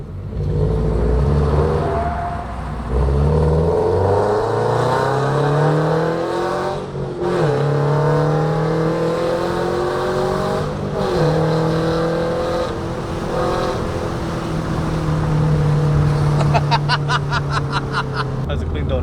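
A Toyota GR86/BRZ fitted with a full exhaust spins donuts, its engine roaring loud and near with rising and falling revs and tire scrub throughout; voices talk over it.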